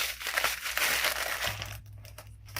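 Crackers are crushed by hand inside their plastic sleeve for a cracker salad, giving close, fairly quiet crinkling and crunching with no talking.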